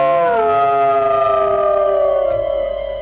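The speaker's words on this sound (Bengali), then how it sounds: "আজকের আমার দুঃখে শিয়াল কুকুর কাঁদছে।" A long, wailing howl of jackals and dogs rises and then settles into a sustained, loud tone during a Bengali Gajon folk performance, with no speech over it.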